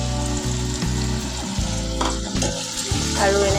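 Onions frying with masala spices in a hot pan, a steady close-up sizzle that runs without a break, with faint scraping from stirring and no voices.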